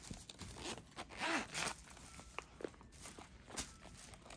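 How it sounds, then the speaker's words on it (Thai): Zipper on a DKNY wallet being slid open and closed, several quiet close-up rasping zips with soft handling clicks between them, faint and intimate. "รูดง่ายมากเราชอบซิปนะคะรูดง่ายแล้วใช้ได้นาน"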